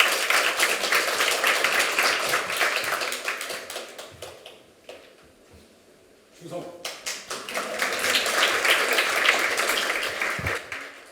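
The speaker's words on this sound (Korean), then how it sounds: "세 분 중에 첫 번째는 아마 군에서 오신 육군본부 환경연구관 김도선 연구관님을 박수로 청하겠습니다." Audience applause at a forum session on nature and the DMZ welcoming an army environmental researcher to speak, dense clapping that fades to near quiet midway and then swells again loudly.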